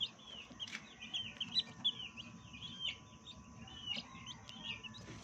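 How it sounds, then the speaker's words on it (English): Newly hatched chicks cheep in a steady run of high, thin peeps from an egg incubation setup, fairly faint and continuous against a low background rumble. "And there's the chicks."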